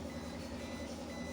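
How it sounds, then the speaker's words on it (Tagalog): A door-closing alert beeps in a rapid, even train of short tones, faint and continuous over quiet background noise. "Yan, yung tunog niya ng beep, nagbi-beep siya."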